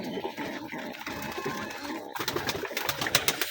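Lotan pigeons cooing close by in a loft, soft repeated throaty coos mixed with rustling and light clicks, growing busier toward the end, with no talking.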